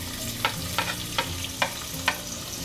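Finely chopped ginger sizzles steadily in hot oil in a kadai, with five or so sharp scraping stirs of a spoon breaking through the frying hiss.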